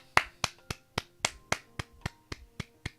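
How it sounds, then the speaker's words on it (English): Crisp, isolated claps ring out one at a time in a slow, even rhythm, about eleven sharp hits over a few seconds, close and dry with quiet gaps between them. "Round of applause."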